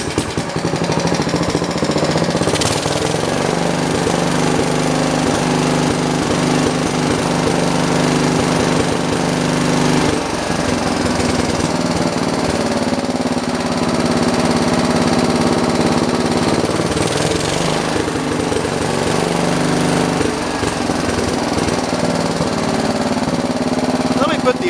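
A John Deere 112 round-fender lawn tractor engine that won't throttle up runs loud and close in a steady drone throughout, with speech faintly over it.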